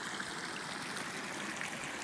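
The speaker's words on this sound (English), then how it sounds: "Creek flowing down there." A creek flows below a sunny green spot on the Three Sisters Loop in an area burned in 2017, a soft, steady babbling rush heard alone.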